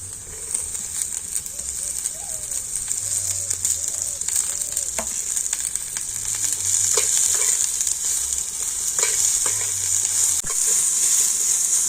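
Carrots and long beans frying with onion and green chilli in a pan, giving a bright, steady sizzle that swells partway through, with occasional stirring knocks and faint murmurs under the hiss.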